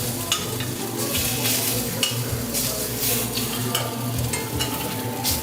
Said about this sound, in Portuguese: Aí eu dou uma tostada no macarrão, que acabou de ser cozido no vapor